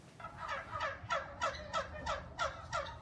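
Turkeys on a turkey farm in Middleville gobble in a rapid, rhythmic series of about eight bursts, close and clear over a low background rumble.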